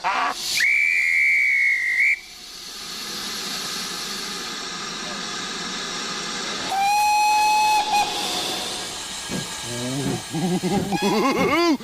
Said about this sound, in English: The guard's about to blow his whistle